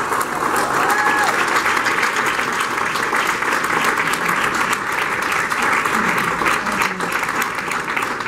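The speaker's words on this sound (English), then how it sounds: "thank you for clapping your hands" Audience applause and clapping fills a hall at a hall of fame event, steady and dense throughout, with faint voices underneath.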